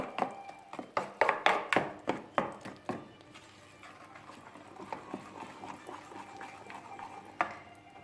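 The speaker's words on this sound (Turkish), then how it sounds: "6 yemek kaşığı un ilave ettim. Şimdi karıştırıyorum." Six tablespoons of flour are stirred into batter for spinach and strained-cheese crepes, with a quick run of sharp utensil taps and clinks against the bowl, then softer, quieter mixing scrapes with occasional knocks.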